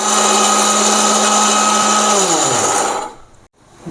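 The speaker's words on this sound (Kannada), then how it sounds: "ಮಿಕ್ಸಿಗೆ? ಬ್ಯಾಡಗಿ ಮೆಣಸಿನ್ಕಾಯಿ, ಹಿಂಗು, ಕೊಬ್ಬರಿ, ಹುರ್ಗಡ್ಲೆ, ಕಡಲೆಕಾಯಿ ಬೀಜ ಇಷ್ಟನ್ನು ಹಾಕಿದ್ದೀನಿ" A kitchen mixer grinder whirs loudly and steadily while coarsely grinding Byadgi chillies, asafoetida, dry coconut, roasted gram and peanuts, then its motor pitch drops and it winds down to near silence.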